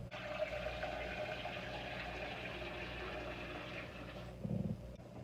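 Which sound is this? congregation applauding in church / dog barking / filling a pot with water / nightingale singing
filling a pot with water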